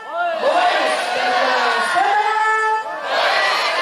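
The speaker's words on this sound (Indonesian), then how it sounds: "Tepukkan tangannya." A large crowd at an outdoor National Education Day ceremony in Malang raises loud, sustained voiced cheers and shouts, swelling again at the end.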